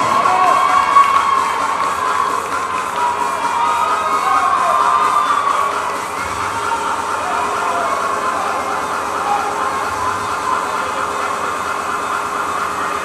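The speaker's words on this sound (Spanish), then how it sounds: "Vamos a despedirnos con un fuerte aplauso." Sustained crowd cheering and applause from an audience at a Musclemania Latino bodybuilding competition, loud and dense, with whoops and shouts over continuous clapping that eases slightly midway.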